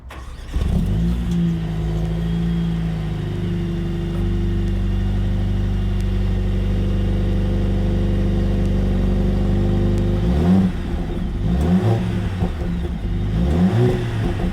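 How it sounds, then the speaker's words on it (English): The 2-liter inline-four of a 2020 Mercedes-AMG CLA 45 coupe runs loud and close, holding a steady idle-like drone before a series of sharp revs rises and falls toward the end. "And that's the 2-liter inline 4"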